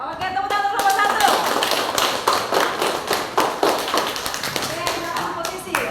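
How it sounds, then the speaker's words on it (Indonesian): A group of teachers in a classroom training session claps together in quick, rhythmic patterns, loud and close, with bursts of sharp taps and a few voices mixing in. "tepuk tangan kelompok 1"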